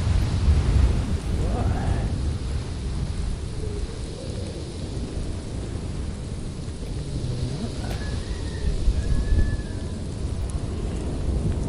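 Steady rain shower falling outdoors in Tunisia during a motorcycle trip, a dense continuous hiss with low rumble and wind, with faint voices in the background.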